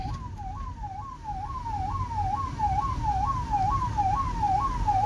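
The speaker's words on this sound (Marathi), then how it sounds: "सायरन चालूच राहू." A siren wails steadily through a Shiv Jayanti procession, a repeating rising-and-falling electronic whoop cycling about every second, loud and continuous over a low rumble of crowd and traffic noise.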